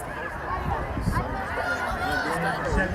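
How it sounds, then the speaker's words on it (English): A crowd at a high school football game between Lindsay and Washington murmurs and calls out for a penalty, with a steady babble of voices and scattered shouts across the stands. "And the crowd wanting a penalty on that play."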